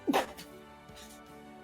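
One sharp human sneeze right at the start, loud and close, followed by soft room noise and faint murmuring during a tabletop roleplaying game session.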